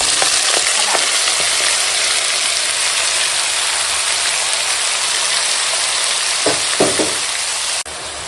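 Marinated fish sliding into hot oil with nigella seeds and slit green chillies, a loud, dense sizzle and crackle that fills the whole clip, with a few sharp spatters and pops along the way.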